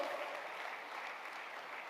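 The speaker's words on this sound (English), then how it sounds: "Let's have a big clap for our Energy Oshiro." Crowd applause at a business leadership talk, a steady dense wash of clapping, moderately distant and fairly faint, holding evenly throughout with no talk over it.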